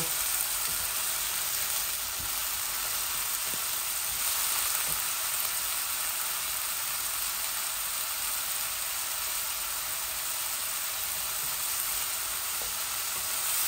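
Onions, salt and spices fry in a pan for a rohu fish roe bhuna, giving a loud, continuous crackling sizzle with no one talking.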